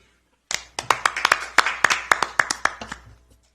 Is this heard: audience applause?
yes